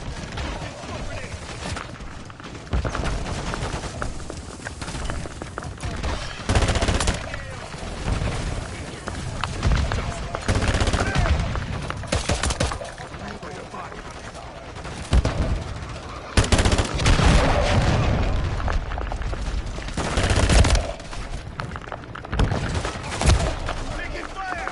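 Sustained automatic fire and scattered shots in Call of Duty: Modern Warfare III, heavy bursts rising and falling over about twenty-five seconds of battle noise, with voices shouting under the combat.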